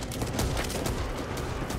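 Shotgun blasts ring out in the zombie shooter Back 4 Blood, a dense, continuous barrage of gunfire mixed with chaotic combat noise, loud and close throughout.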